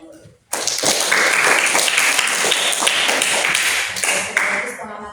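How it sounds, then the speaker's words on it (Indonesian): Students in a classroom clap together in a sustained burst of applause, starting abruptly and continuing dense and loud before thinning out near the end. "beri tepuk tangan dulu."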